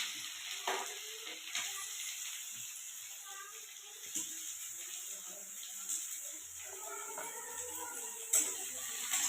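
Garlic, onion and green chili sizzle steadily in a pan, a faint, continuous frying hiss with a few brief clinks of stirring.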